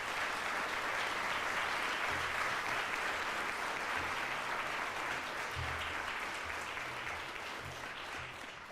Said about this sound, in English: Let's give them a big hand of applause.